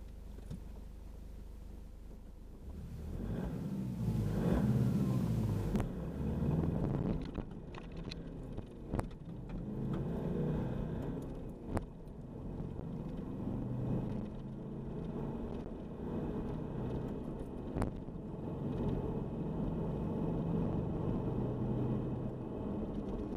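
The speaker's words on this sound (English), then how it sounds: "The first one will be a reasonably hard acceleration to 100k" A Nissan ZD30DI diesel engine accelerates hard to 100 km/h, a sustained rumbling drone heard from inside the vehicle with rising and falling engine tone across gear changes and road and wind noise.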